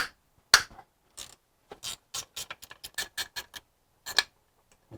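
A bolt loosened and backed out on a BMW E90 engine during an oil filter housing gasket job, a string of sharp metallic ratchet clicks in quick bursts, close and clear, separated by short silences.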